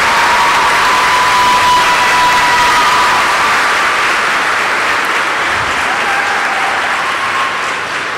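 Graduating class applauding their families, friends and faculty at a school graduation ceremony, a loud, dense, continuous wash of clapping from a large crowd that holds steady for over eight seconds.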